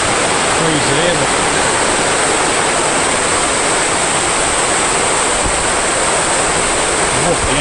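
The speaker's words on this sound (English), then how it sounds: "This is a creek." A creek runs beside Bloomfield Road near rainforest, giving a loud, constant rush of flowing water that fills the whole stretch without pause.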